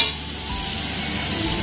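Luchi frying in a pan gives a short, close burst of oily sizzling with faint clinks of utensils, and no voices.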